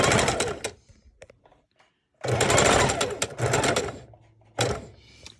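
A sewing machine stitches fabric strips together in rapid bursts of loud, close mechanical chatter, separated by a quiet pause and a few faint clicks.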